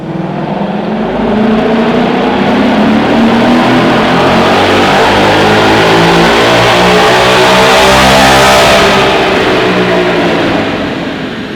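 A Ford Mustang GT S550 with a Steeda H/X pipe exhaust revs up, its engine climbing steadily in pitch to a loud peak before easing back down, close and alone.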